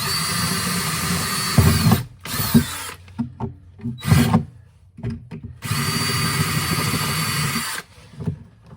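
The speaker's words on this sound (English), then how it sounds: "Let's see if that can drill it out." Loud power drill whines in several bursts drilling out a rivet on a 1980s Campion Sunbridge boat, long runs of grinding broken by short pauses and lighter scraping, close by with no talking.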